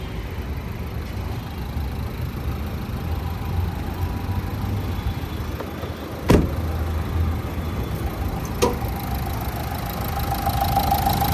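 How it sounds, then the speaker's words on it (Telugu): A 2016 Nissan Terrano 110PS XV diesel engine idles in a steady, even rumble, close and continuous, with two brief knocks partway through and no talk. "ఇంజన్ సౌండ్ కూడా ఎక్సలెంట్ కండిషన్లో ఉంది"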